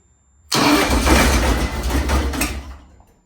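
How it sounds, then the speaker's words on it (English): A Hillman Imp engine on an old dyno cranks and fires almost instantly, running loud and close with a rough, throbbing roar for about two seconds before cutting out. "Hopefully it'll go this time without making a horrible backfiring noise"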